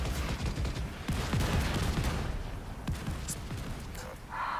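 A mortar barrage in The Division 2 combat: dense, continuous rolling booms and rapid gunfire crackle layered together, loud and sustained with a few brief higher electronic tones near the end.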